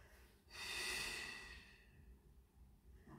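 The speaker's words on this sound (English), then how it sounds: "keep breathing through your nose and out through your mouth" A single slow breath, drawn in through the nose and released through the mouth as a long, airy exhale, close and soft, during a gentle beginner Pilates class.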